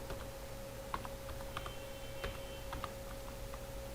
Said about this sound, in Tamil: கம்பெனி நேமை இப்போ டைப் பண்ணுறேன்